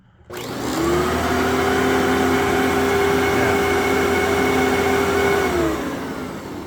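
A Kenmore Destiny Plus vacuum cleaner switches on and runs with a loud, steady motor whine and airflow roar close by, then begins to wind down near the end.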